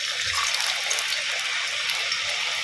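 Chicken tikki frying in hot oil over a low flame in a kadai gives off a steady, even hiss of fine sizzling that runs throughout without a break. No voices are heard.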